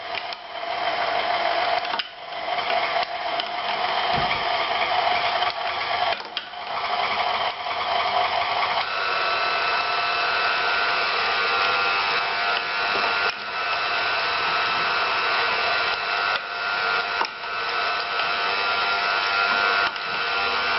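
Food grinder grinding venison with cubes of butter for reindeer-style meatballs, a steady continuous mechanical whir with grinding texture running unbroken throughout, close and fairly loud.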